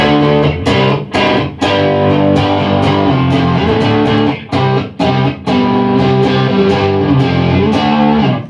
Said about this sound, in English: just a really tiny little boost through an overdrive, through a complete distortion.